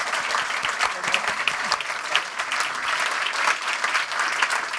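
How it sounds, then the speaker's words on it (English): An audience at a maths summit applauds a panel session, with sustained, full-room clapping at an even level, moderately loud and unbroken. "So would you give the panel a very large round of applause?"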